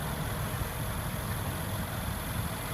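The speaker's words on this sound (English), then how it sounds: "Very impressive engine with tons of power." A Mercedes-AMG car engine idling, a steady low rumble with a constant hum, close and unbroken, with no talk.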